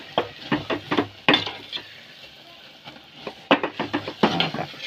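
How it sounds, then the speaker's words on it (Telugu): Grated coconut with cardamom is stirred in a pan: repeated scraping and clinking strokes of a spoon against metal come in quick irregular bursts with short pauses, close and fairly loud. "ఇలా కొబ్బరి అంతా వేసేసుకోవాలి. వేసేసుకొని ఇలా తిప్పుకుంటామండి,"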